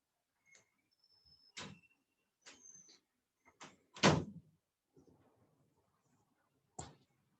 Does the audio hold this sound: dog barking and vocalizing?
no